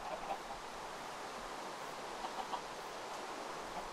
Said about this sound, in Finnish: Siellä on kanoja.